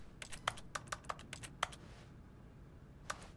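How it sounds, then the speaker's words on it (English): Mouse clicks during play of The Stanley Parable Ultra Deluxe, a rapid irregular run of sharp, close clicks that sounds almost like typing, then a pause and a single click. "Why does it sound like I'm typing? I'm literally clicking."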